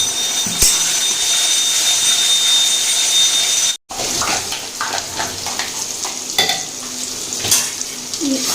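Onion and garlic frying in a pan for Dak Bungalow chicken curry, giving a loud, steady sizzle with a brief cut-out, then continued frying broken by clattering stirs and utensil scrapes close by.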